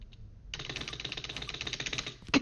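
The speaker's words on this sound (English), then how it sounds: "You guys want to hear my keyboard?" Rapid computer keyboard typing, a fast even run of clacking keystrokes that starts after half a second and continues steadily, fairly close and with no talk.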